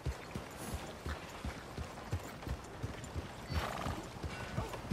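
Horse hooves gallop in Red Dead Redemption 2, a steady rapid clip-clop of close, loud footfalls running throughout with a brief neigh-like burst midway and no talking.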